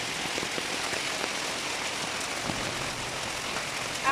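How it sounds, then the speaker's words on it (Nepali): Hail pouring down on a rainy day, a dense continuous hiss of pellets and drops striking surfaces nearby, with a few sharper individual impacts standing out and no voices. "हाम्रो यहाँनिर असिनाको धारा बग्दैछ असिना झर्दैछ"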